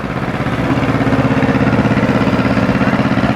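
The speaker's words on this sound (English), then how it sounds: "John Deere LA. 2-cylinder, built by Waterloo." A John Deere LA two-cylinder tractor built in Waterloo idles at a cotton gin festival, its engine chugging in a loud, close, steady putt-putt rhythm with no pauses.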